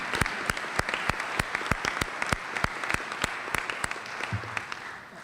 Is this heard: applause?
yes